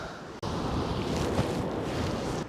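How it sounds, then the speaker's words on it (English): Strong wind roars steadily against the microphone on a UK seashore, a dense rumbling blast with surf-like wash beneath it and no talking. "It's very windy."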